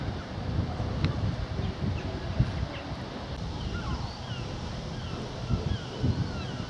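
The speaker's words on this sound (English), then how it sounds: "Very blowy now, albeit the sun's broken through." Strong gusty wind buffets the microphone outdoors in steady broadband rushing with a few louder gusts, heard on a walk near Minehead Station, with faint chirps of birds in the distance.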